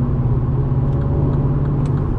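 A 2020 Mini Cooper S Clubman pulling away on throttle with paddle shifting, heard as a loud, steady low engine drone from inside the cabin, smooth and unbroken, with no talking.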